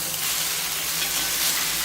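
Elephant foot yam cubes sizzle steadily in a heavy-bottomed pan as they are stirred, a dense, continuous frying crackle that holds evenly throughout without any talking.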